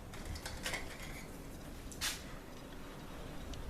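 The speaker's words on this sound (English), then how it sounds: "I'm just going to give it one quick stir." Layered acrylic paint is given one quick stir in a cup: faint clinks and light scraping of the stirrer against the cup, a few soft taps with one slightly louder knock, and no talk.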